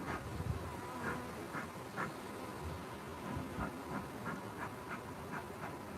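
Honey bees buzzing in a continuous, faint, wavering drone at an open hive during a hot summer inspection, with no talking.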